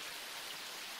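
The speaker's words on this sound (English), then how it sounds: "If you'd gone out into this rain, we would have had 2 sick people." Anime rain falls in a soft, even hiss with no voices, a faint and steady wash throughout the short stretch.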